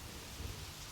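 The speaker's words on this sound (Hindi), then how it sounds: "आज मैं तुम्हारे साथ इस बारिश में भीगना चाहती हूँ।" Steady rain falling, a dense, even hiss of drops with a low rumble underneath, continuous and moderately loud for a brief moment.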